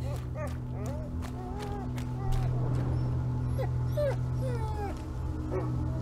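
An injured dog whimpers and yips in the video game A Plague Tale: Innocence, with repeated high whines over a low steady hum, near and fairly loud.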